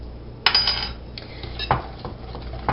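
Cookie ingredients for pumpkin chocolate chip cookies are mixed in a bowl: a utensil clinks and scrapes against the bowl in a few sharp knocks and softer scrapes, close and moderately loud with no talk.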